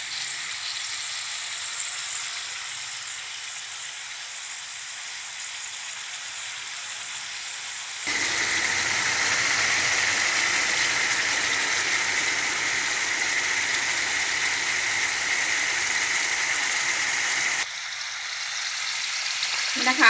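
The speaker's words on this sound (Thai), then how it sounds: "ทอดสดเปิดไฟอ่อนนะคะเพื่อน" Sun-dried pork neck frying in oil over low heat, a steady soft sizzle and crackle that swells louder midway, then eases back, with no talking.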